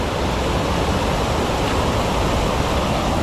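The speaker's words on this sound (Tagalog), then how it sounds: "Yan, hagdang waterfalls yan." A tiered waterfall tumbling down its steps, heard up close as a loud, steady, unbroken roar of rushing water with no pauses or talk.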